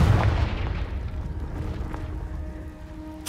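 A Confringo fire spell blast in the Hogwarts Legacy video game, a dull booming burst with a rumbling tail under the game's ambience, ending in a sharp crack.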